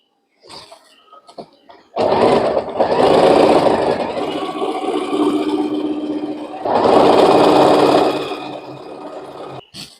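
A Fashion Maker sewing machine sews a zigzag satin stitch on selector setting C with a satin stitch foot. It runs in a loud, steady whir for several seconds, briefly easing before speeding up again, with faint clicks before it starts.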